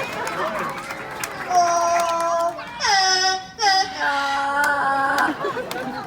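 A parrot at a wildlife park bird show mimics human singing in a wavering, melodic, voice-like run of sustained notes and slides, close and fairly loud.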